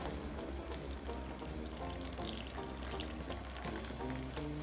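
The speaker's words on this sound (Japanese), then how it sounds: "そしたら弱火にしてもう少しこれを煮ていきましょう。" Dashi broth for spinach clear soup simmers in a pot on low heat, a dense, steady bubbling hiss with soft music playing underneath.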